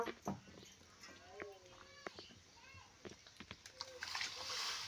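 Water left from soaking bitter gourd splashes into a pan over a strong flame while a bitter gourd curry is cooked, with a louder sloshing burst near the end and people talking throughout.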